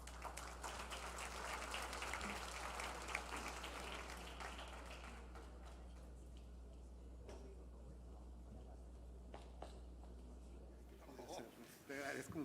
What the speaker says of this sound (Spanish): Quiero pedirle un fuerte aplauso